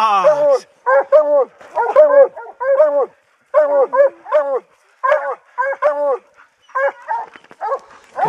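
Several dogs bark and yip in quick bursts, some strokes bending into whimpering howls, close and fairly loud with short gaps between volleys.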